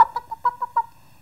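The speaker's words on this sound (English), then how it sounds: "The sound of chickens clucking." Chickens cluck in a quick series of six short, close, bright clucks, each fading into a brief pause and ending abruptly.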